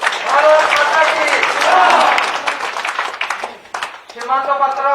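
Applause from a crowd welcoming a speaker at a state BJP party office, a rough patter of clapping mixed with overlapping voices and talk throughout.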